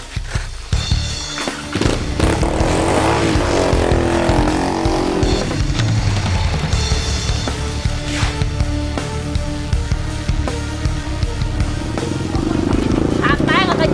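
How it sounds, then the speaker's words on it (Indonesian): A motorcycle ridden in a street chase, its engine rumbling and revving close by, with people shouting and talking over it throughout. "Ngejarnya pakai motor."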